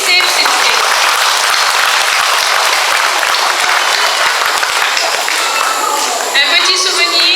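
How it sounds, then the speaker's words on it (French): Loud, sustained applause from an audience at a Hmong commemoration ceremony, dense clapping filling the whole stretch, with a slight swell near the end and some voices mixed in. "Applaudissez, s'il vous plaît."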